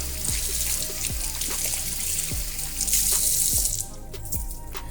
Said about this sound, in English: I do have to wash my hands and get the seafood off.